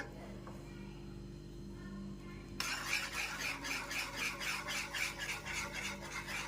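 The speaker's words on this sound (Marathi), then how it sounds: "एका हाताने पीठ टाकायचं आहे आणि एका हाताने हटून घ्यायचं आहे" Rhythmic scraping strokes of stirring flour into boiling water for Maharashtrian masvadi, starting partway through, steady and fairly close over a low background hum.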